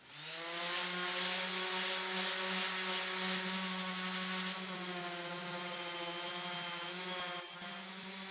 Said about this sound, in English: I took it outside and used an angle grinder with a flat disc.